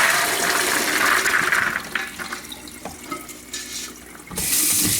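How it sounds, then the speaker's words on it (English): Running tap water rinsing drained beans in a sink, a steady rushing splash that softens and sputters midway, then surges strong again at the end. "Rinse those down."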